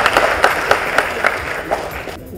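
An audience at a birthday celebration event applauds to welcome actor Vivek Oberoi, loud crowd clapping with a few sharper individual claps standing out before it cuts off.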